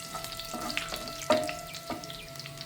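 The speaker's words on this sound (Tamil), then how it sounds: "காஞ்ச மிளகாய் போட்ட பிறகு கொஞ்சம் நேரத்தை எண்ணெயில் சூடாகட்டும்." Dried red chillies sizzle and crackle in hot oil while a pepper chicken dish is being prepared, a steady close frying hiss broken by a few sharp pops, with no one talking.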